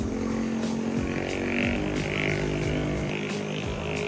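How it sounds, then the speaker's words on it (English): A small moped engine drones steadily nearby on a hill in Lombok, its pitch rising and falling as it labors uphill, with no voices over it. "We're just gonna wait for the local moped."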